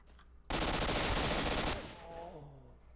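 Enemy gunfire in S.T.A.L.K.E.R. Shadow of Chernobyl: a loud, dense burst of automatic fire lasting about a second, cutting off abruptly and giving way to fainter shots and a quieter voice afterward.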